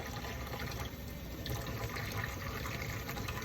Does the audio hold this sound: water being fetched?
yes